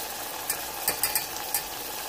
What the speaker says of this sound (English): I'm gonna go ahead and add some minced garlic.